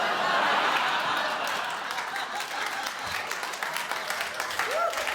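An audience claps and applauds steadily, with scattered laughter and crowd murmur mixed in.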